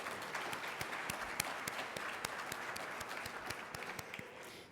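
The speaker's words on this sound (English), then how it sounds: "Let's give yourselves a round of applause." A large graduating class of 2025 and their audience applaud at an evening high school merit assembly, a dense, steady wash of many hands clapping with sharper individual claps popping out, sustained throughout.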